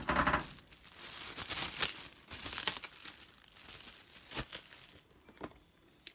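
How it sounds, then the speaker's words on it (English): Plastic cling wrap crinkles and rustles up close as it is cut and wrapped around acrylic embellishments, in quiet bursts of crackling with brief pauses between them. "cling wrap, glad wrap, the plastic, you know, you can wrap them in that."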